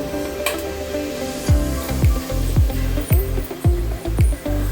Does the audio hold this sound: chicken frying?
yes